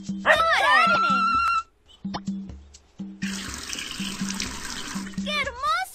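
Water pours onto a garden in the Dora the Explorer game La Casa de Dora (PC, 2006), a bright splashing wash running for a few seconds between cheerful voiced lines and tonal chimes.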